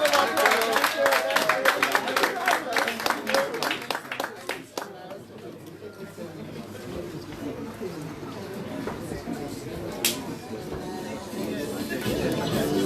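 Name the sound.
audience applause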